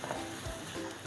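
Minced garlic sautés in a pan until soft and fragrant, a steady, quiet, even sizzle that continues without pause and with no voices.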